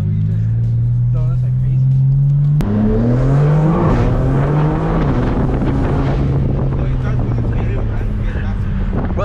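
An 800 hp turbocharged BMW G80 M3 pulls loudly while driving, its engine note rising then shifting after a sharp click, with wind buffeting and a voice talking over the drone.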